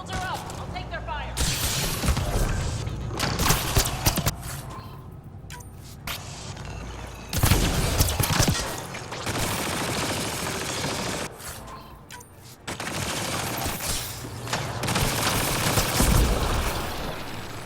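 Enemy gunfire rattles through a firefight in Mass Effect: Andromeda, with dense, continuous bursts and booms that surge and drop over nearly eighteen seconds, thick with battle noise throughout.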